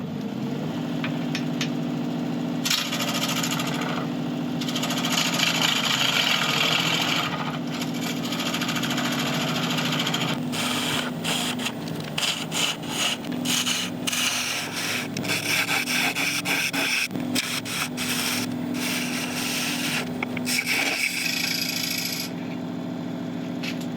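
Rotten elm bowl spinning on a wood lathe, with a steady grinding, rubbing scrape of tool on wood over a constant motor hum, loud and close, sustained throughout.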